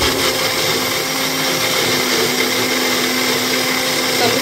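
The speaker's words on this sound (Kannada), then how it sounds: "ಪಾಲಕ್ನ ಗ್ರೈಂಡ್ ಮಾಡ್ಕೊಳ್ಳೋಣ" Kitchen mixer grinder blending spinach (palak) for a palak chicken dish, with a loud, steady, close motor roar that runs unbroken throughout.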